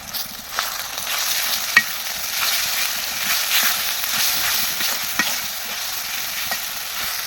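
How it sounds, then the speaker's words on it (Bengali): Fish and bean seeds fry in a pan with onion paste, turmeric, chili paste, cumin paste and salt, giving a steady broad sizzle with a few sharp clicks of stirring, close and alone. "কষানি করে নেব এটা।"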